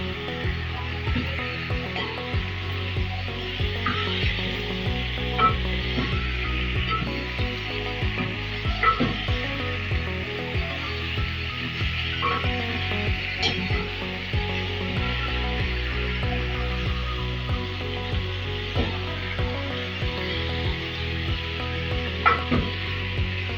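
Tomatoes go into a sizzling pan of wet fry chicken, bringing a steady, fairly soft hiss and crackle of frying that carries on throughout, with faint clinks and a low background hum.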